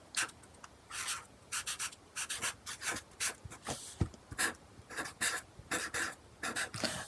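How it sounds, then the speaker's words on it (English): A skirt diagram is drawn on paper for a 1930s evening skirt, heard as close, scratchy pencil or pen strokes in short rhythmic bursts with brief pauses between lines. "I'm going to just draw that diagram from the book to remind myself"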